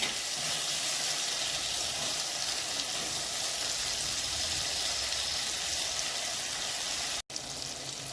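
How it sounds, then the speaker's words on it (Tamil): Onion and tomato sauté with salt in a pan for a fish curry, making a continuous, moderate sizzle with a single abrupt dropout near the end; no speech. "கொஞ்சம் நல்ல வெங்காயம் தக்காளி வதங்கிடட்டும்."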